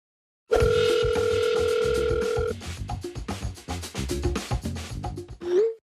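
A telephone dial tone hums steadily for about two seconds, loud and close, then cuts off into a run of clicks and rapid knocks ending in a brief rising tone.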